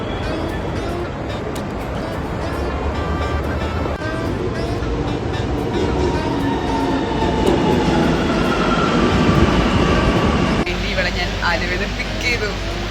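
A metro train at Kalamassery metro station gives a loud, continuous rumble of wheels on rails, swelling and then shifting as it passes close by.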